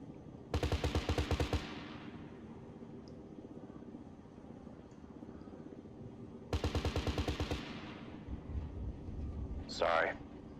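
ArmA III aircraft guns fire two long, loud buzzing bursts several seconds apart over a steady engine drone, with a rising whine near the end.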